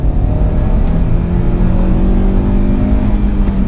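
Honda Accord Type S, a modified car with 190 brake horsepower, pulling hard in second gear: a loud, steady engine drone with a rising note held throughout, heard from inside the cabin with no talking.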